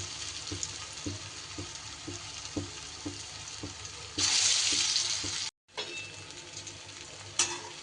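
Papaya and lentil fritters crackle in hot oil, with soft regular taps of a utensil, then a louder surge of sizzling as the pan flares before a brief drop-out and more frying.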